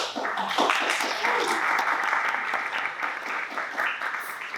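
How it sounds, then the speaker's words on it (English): An audience applauding together at a business communications speaker event, a dense, steady wash of clapping that carries on evenly for several seconds. "please give her a round of applause."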